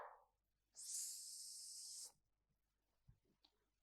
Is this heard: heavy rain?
no